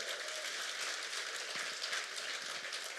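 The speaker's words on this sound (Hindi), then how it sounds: "मैं चाहूंगा इन दोनों दमदार लीडर्स के लिए एक जोरदार ताली हो जाए" A dense, steady wash of applause from an audience at a business success-story event, continuous and fairly loud throughout, with no voices rising above it.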